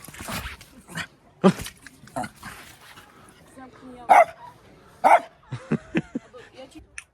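An excited dog barks repeatedly outdoors at sunset, sharp irregular barks and yips in quick bursts, with a person talking at the same time.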